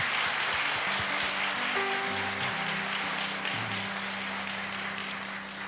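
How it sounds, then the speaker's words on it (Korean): A church congregation applauds its teachers during a Sunday worship service in Seattle. Steady, dense clapping fills the room, with sustained low keyboard tones held underneath. "우리 다시 한번 우리 교사들을 위해서 박수로 축복해 주시기 바랍니다."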